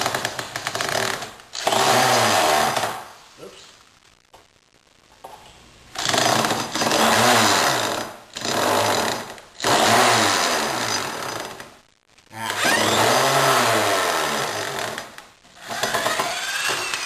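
A cordless power drill driving screws into wooden formwork: about seven loud, sustained whirring bursts of a few seconds each, separated by short pauses, close up and with no voices.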